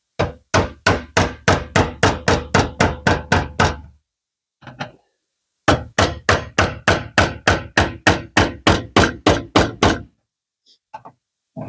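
A hammer strikes a new fuel tank's lock ring to tighten it, two rapid runs of about a dozen sharp, evenly spaced metallic blows, separated by a short pause with a few light taps.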